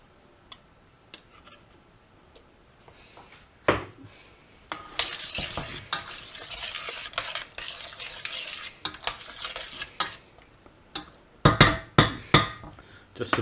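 Half a tin of beans going into a pot of chilli, starting with faint handling, then scraping, clanks and soft splatter as the beans tip in and get stirred, loudest near the end, close by and without talk.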